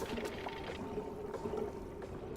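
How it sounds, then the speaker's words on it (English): Polluted water pouring in Oxygen Not Included, a continuous soft gushing and splashing flow that stays steady and fairly quiet throughout. "here comes the first load of polluted water"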